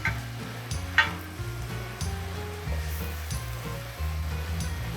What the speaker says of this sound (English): So I just want the mushrooms to cook.